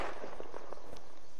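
Gunshots in Unturned on the Chernarus map, a quick series of about five sharp, evenly spaced cracks at moderate distance over steady background noise.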